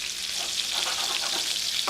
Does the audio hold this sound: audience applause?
no